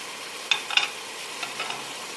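Onion fries in a pan with a soft, steady sizzle, broken by a few quick scraping stir clatters early on and lighter ones after.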